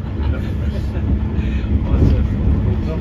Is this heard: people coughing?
no